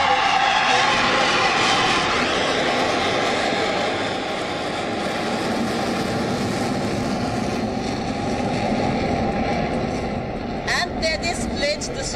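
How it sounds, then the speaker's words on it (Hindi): Rafale and Sukhoi fighter jets pass over an Indian Air Force Day display, their loud rumbling roar running steadily under a reporter's continuous commentary. "आसमान में गड़गड़ाहट सुनाई पड़ रही है। भारत के लड़ाकू विमान आसमान में उड़ान भरते हुए रफाल और सुखोई"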